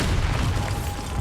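A Bombarda spell explodes in Hogwarts Legacy, giving a loud, sustained broadband rumble with heavy low-end boom that stays dense for its full length, up close and with no talk.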